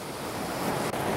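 River white water rushes in a steady, broadband roar, close and continuous, with no voices over it.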